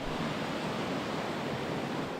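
Water pours into a dry dock being flooded ahead of a ship's maintenance, a dense, even roar that stays constant and fairly loud throughout.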